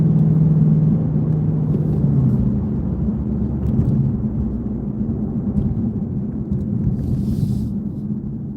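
A Shelby GT350 engine rumbles loudly and steadily near redline, a deep sustained drone that eases off slightly, heard close up with no talking.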